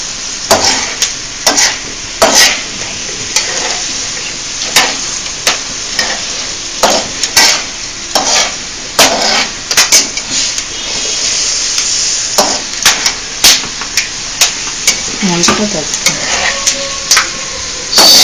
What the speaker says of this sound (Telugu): కొంచెం పేలుతుంటాయి, కంగారు పడుతుంది.